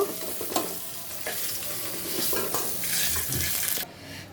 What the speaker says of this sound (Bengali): দেখো বাকি মাছগুলো ভাজা হয়ে গেল তুলে নিব